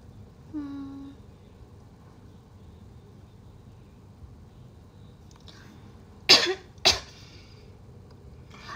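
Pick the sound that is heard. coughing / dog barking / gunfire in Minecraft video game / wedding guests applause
coughing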